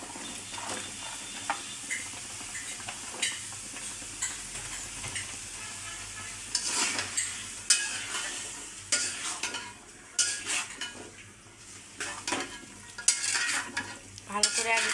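Vegetables sizzle and fry in oil in a pan for a village-style tilapia curry with drumsticks, while a utensil stirs and scrapes at irregular moments, a clatter rising in the second half, with no voices.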